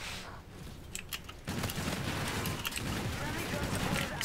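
Snap pistol fire and in-game combat from Call of Duty: Infinite Warfare, a dense burst of gunfire and explosive noise that swells after a quieter opening and stays loud and continuous to the end.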